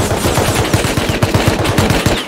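A loud, rapid burst of automatic gunfire, a steady rattle of closely spaced shots that runs almost the whole time before cutting off abruptly.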